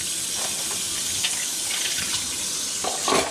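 A kitchen tap runs steadily while dishes are rinsed and set in a drying rack, a continuous close hiss of flowing water with small clinks and splashes breaking through.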